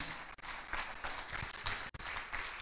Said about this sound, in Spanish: Denles un aplauso a todos estos niños bonitos.